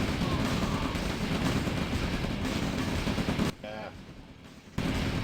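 Continuous rumbling artillery and gunfire barrage from a real-time strategy battle in OpenRA, loud and dense for several seconds before briefly dropping out, then resuming; voices talk over it.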